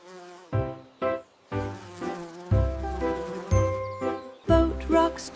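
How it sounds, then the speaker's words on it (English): A bee buzzing in a gentle bedtime rhyme for toddlers: about eight short, close, buzzing bursts come in an uneven rhythm with small shifts in pitch, and there is no speech over them. "Bee flies buzz, buzz, sweet fuzz."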